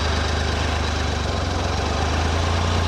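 A 2015 Triumph Tiger Sport 1050 SE motorcycle engine pulls away in first gear, giving a steady, close low-pitched rumble and hum that runs evenly throughout, with no talk.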